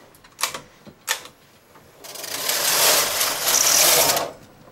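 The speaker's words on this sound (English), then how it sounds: "the blue was knit back and forth on the ribber and knitter on selected needles on the knitter" A manual double bed knitting machine with a ribber knits jacquard: a few sharp mechanical clicks and clacks come first, then the carriage makes a long, loud sliding rasp across the needle beds.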